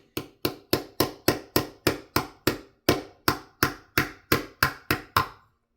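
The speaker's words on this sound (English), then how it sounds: "I'm just going to put the screw in there so when I tap on it, I'm tapping on the head of the screw." A screw head is tapped to seat a part of a CRKT Squid II knife, giving about seventeen sharp, close, evenly spaced taps that fall in a steady rhythm, each with a short ring, and then stop. No one speaks.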